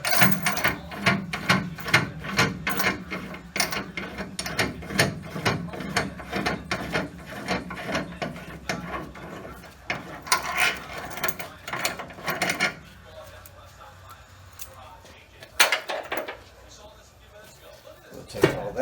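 Ratchet wrench loosening bolts on an AMC Gremlin or Hornet front suspension, rapid rhythmic clicking strokes up close, then scattered metallic clinks and handling noises.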